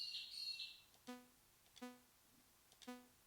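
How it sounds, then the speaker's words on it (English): A peewee bird calls three times in a spaced, tonal series, each call a clear whistled note, heard indoors at moderate distance after an opening high chirping trill. "I think that's a peewee."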